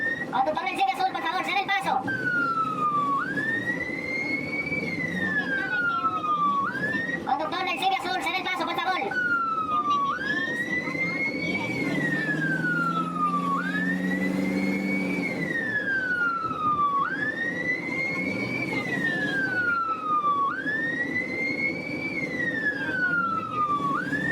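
A loud emergency siren wails in repeated rising-and-falling cycles close by, steady throughout, with traffic noise underneath.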